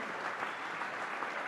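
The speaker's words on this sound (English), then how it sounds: "Give them a round of applause for being here tonight" Audience applause at the Suffolk County Democratic Committee's annual spring dinner at Villa Lombardi, a steady, even wash of clapping from a banquet crowd held at the same level throughout, with no talking over it.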